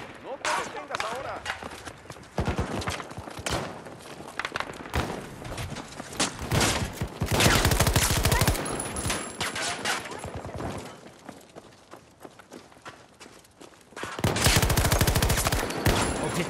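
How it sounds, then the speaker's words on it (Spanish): Battlefield 2042 gunfire crackles in dense, irregular bursts of rapid shots throughout, loud and close, with heavier volleys near the middle and end and brief lulls between them. "¡Nos están disparando!"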